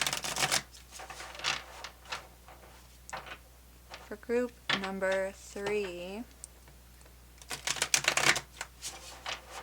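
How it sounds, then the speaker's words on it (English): A tarot card deck is shuffled in quick, crisp riffling bursts at the start and again near the end, with someone talking between them. "I'm going to give this a good shuffle as well."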